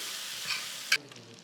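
Ginger paste and kasuri methi sauté in a hot pan for pav bhaji, giving a soft, steady sizzle with a couple of quick stirring clicks before it drops away.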